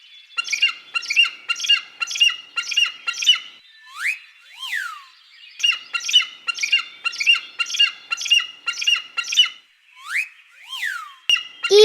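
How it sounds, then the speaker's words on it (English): Repeated sharp squawking bird calls from an eagle, delivered in rapid bursts with short pauses and a few upward whistled notes, loud and close with no talking. "Eagle."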